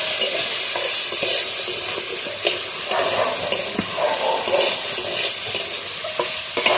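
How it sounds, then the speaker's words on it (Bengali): Spiced potatoes sauté in a pan with coriander powder, a steady frying sizzle broken by repeated scraping stirs of the spoon across the pan, close and fairly loud, with no voices. "দিয়ে আমি ভালোভাবে কষে নেবো, আলুটা ভালোভাবে কষিয়ে নেব"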